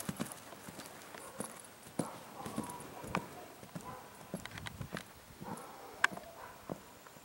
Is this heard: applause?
no